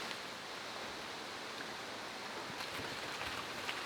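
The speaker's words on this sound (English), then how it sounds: "And why is it raining?" Steady rain falls outdoors as an even, hissing wash of drops, constant and moderately loud with no voices over it.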